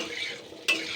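A spoon stirring a suji and sour yogurt snack lightly frying in a pan, a soft sizzle with scraping strokes and one sharper, louder scrape near the end.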